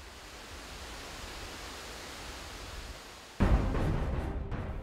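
River water at Rivière aux Émeraudes in Percé, a soft continuous rushing flow that jumps abruptly louder and closer about two-thirds through.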